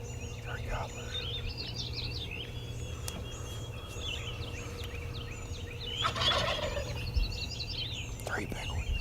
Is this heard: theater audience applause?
no